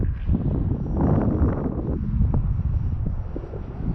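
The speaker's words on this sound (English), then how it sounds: "That wind's pushing it over." Gusty wind at an RC flying field buffets the microphone in uneven low rumbles and swells, with faint motor whine of a small radio-controlled Carbon Cub plane in the background.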